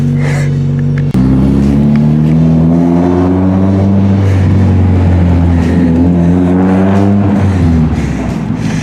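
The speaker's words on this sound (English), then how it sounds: "one of the loudest cars I've ever seen" A Mazda Miata with a very loud exhaust roars up close, a sharp start followed by repeated revs climbing and falling in pitch, the engine blaring alone for most of the stretch before easing off.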